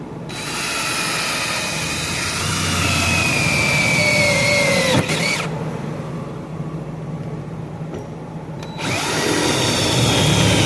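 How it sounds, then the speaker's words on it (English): A Craftsman power drill runs loud and steady at close range, drilling holes for a receiver hitch with old bits, a grinding whine that drops out briefly and then starts up again. "I'm going to go ahead and drill the holes for the receiver hitch"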